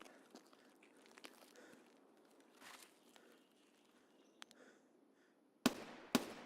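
Gunfire in the video game Escape From Tarkov: after a long quiet stretch of faint ambience, two or three sharp, loud cracking shots burst out near the end, close together.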